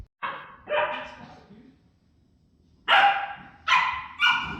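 Puppies barking indoors, two short yappy barks followed after a pause by three quick louder barks, close and alone without talk.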